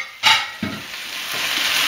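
Fried potatoes are stirred into lomo saltado in a hot pan with a scraping stir near the start, then a continuous bright sizzle that rises gradually and keeps going.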